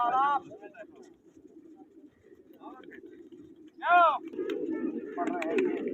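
Pigeons coo in short throaty bursts, several separate calls over a few seconds, over a continuous background murmur.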